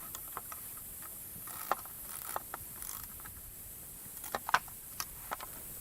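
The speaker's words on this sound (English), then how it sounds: "Pulleys should turn freely." Pulleys on an HD38 sawmill carriage and sawhead are turned by hand, giving faint scattered mechanical clicks and ticks over a quiet background, irregular and close.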